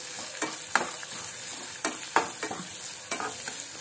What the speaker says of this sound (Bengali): এটা একটু ভালো করে ভেজে নিতে হবে। রসুনটা আগে ভেজে নিলাম